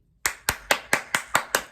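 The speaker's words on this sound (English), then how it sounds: "I'm clapping hard now because damn well this show ended in a good way" Seven sharp hand claps at an even, brisk pace, close and crisp, each one ringing briefly in a quiet room, with no voices.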